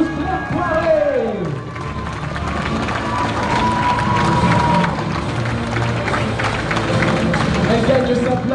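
Sustained audience applause and cheering fill a theatre in Abbeville for the second runner-up of the Miss Somme 2012 pageant, a steady dense clatter of clapping lasting throughout, with a voice and background sound mixed in.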